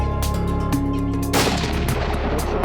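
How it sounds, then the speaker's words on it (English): A hunting rifle fired on a kudu hunt: a loud, close gunshot cracks midway through and rolls into a booming echo that fades out, with a low rumble and faint background before it. "Put another shot into the gun."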